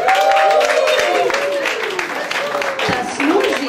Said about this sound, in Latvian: Aplausi vēlreiz!